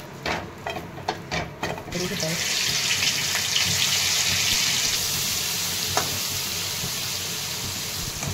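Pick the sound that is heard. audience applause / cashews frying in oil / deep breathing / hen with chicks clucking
cashews frying in oil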